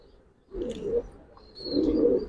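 Two soft, low coos from Giribaz and coloured pigeons, the first short and the second longer and fuller, with a faint high chirp between them, heard fairly close with no talk.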